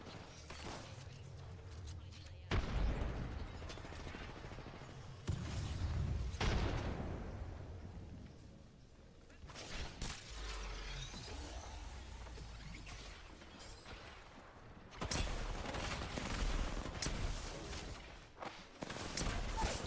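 Bursts of gunfire and heavy explosive blasts in an Apex Legends ranked match, coming in loud clustered volleys separated by quieter stretches, some impacts booming and crashing over a busy, chaotic battle backdrop.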